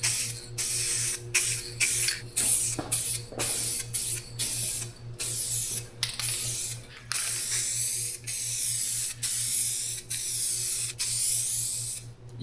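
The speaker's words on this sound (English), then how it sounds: "It's hard to not stripe metallic when you're using a spray can" Metallic paint sprayed from a spray can onto a car panel during a restoration, repeated hissing bursts separated by short pauses, close and clear with a low hum beneath.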